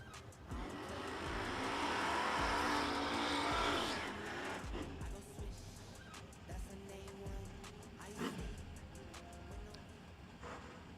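Drag race cars launch down the strip during a re-entry round at a no-delay drag racing nationals event: a loud, rising engine roar swells over the first few seconds, then fades into quieter, more distant engine noise with scattered knocks.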